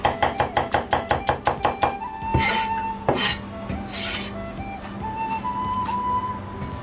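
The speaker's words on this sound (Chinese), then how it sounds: "剁成蒜米" A kitchen knife minces garlic for Sichuan hand-torn cabbage, with a quick even run of about a dozen crisp chops on the board, then scraping and clattering of the blade and utensils.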